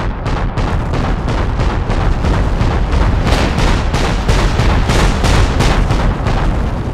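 Artillery gun blasting repeatedly in Company of Heroes, a loud continuous barrage of sharp booms in quick rhythm, layered over heavy rumbling with no pause across the stretch.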